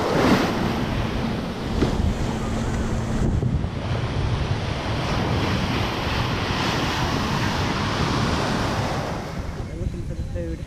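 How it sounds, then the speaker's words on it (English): Ocean waves wash onto a beach in Riviera Maya, a continuous rushing surf roar mixed with gusty wind buffeting the microphone, with no clear talk over it. "Let's go swimming in the ocean."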